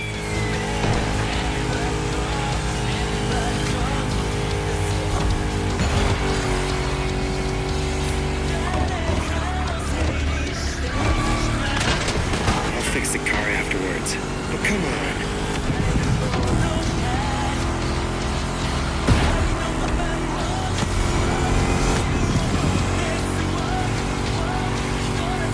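A Chrysler SRT8 with a V8 Hemi races in the game The Crew Motorfest, its engine revving loudly and continuously, rising and falling through gear changes over the whole stretch with occasional tire noise.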